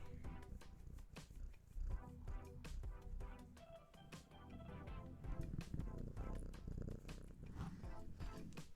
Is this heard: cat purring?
yes